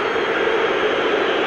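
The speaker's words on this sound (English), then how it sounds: "You can hear the crowd in the background." A football stadium crowd at Celtic v Inverness CT roars as a steady, broad wash of noise, continuous and fairly loud with no individual voices standing out.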